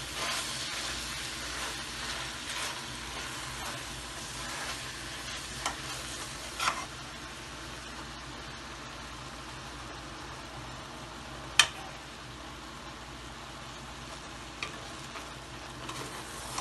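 Spinach cooks with chicken legs in a pan, giving a steady soft sizzle throughout with occasional stirring scrapes and a few sharp spoon knocks against the pot.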